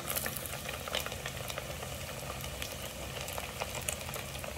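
Horse mackerel (aji) fillets frying in a crowded pan of oil, a dense, steady crackling sizzle with scattered sharper pops, fairly close and continuous with no talk.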